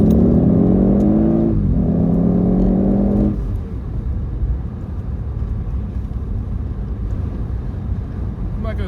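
An Audi S8 Plus engine revs hard under full-throttle acceleration, rising in pitch through two gears with a brief dip at the shift, then settling into loud road and wind roar once the pull ends.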